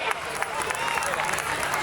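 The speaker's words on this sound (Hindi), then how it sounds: "आइए जोरदार तालियों के साथ उनका स्वागत करें" An audience at a school tribute event claps to welcome performing students, a brief burst of dense, steady applause with crowd murmur underneath.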